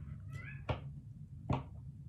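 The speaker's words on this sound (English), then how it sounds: "that's my cat." A house cat meows twice, quietly and indoors, two short calls spaced under a second apart over a low steady background hum.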